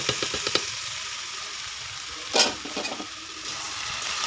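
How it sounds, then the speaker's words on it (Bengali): Boiled peas are stirred into a frying spice paste in oil for ghugni, with a continuous soft sizzle, a few quick scraping strokes early on and a louder clatter midway, all close by with no talking. "এবার আমি দিয়ে দেবো এর মধ্যে সিদ্ধ করে রাখা মটর।"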